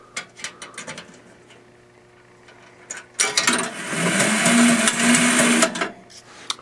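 A Pulver penny gum vending machine in original condition runs its mechanism after a coin goes in: a few light clicks, then about three seconds of steady whirring, rattling mechanical motion, close and fairly loud, ending abruptly.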